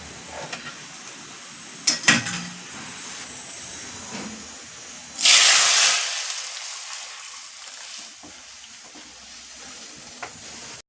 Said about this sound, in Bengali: ফোড়ন দিয়ে দিয়েছি চলো এবার ডালটা ঢেলে দিই